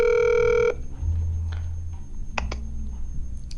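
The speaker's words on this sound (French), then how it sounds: "Voilà, j'appelle la sœur Lily afin qu'elle soit avec nous" A telephone ringback tone on an outgoing call: one steady electronic ring of about two-thirds of a second, then quiet line hiss with a few faint clicks, no voices.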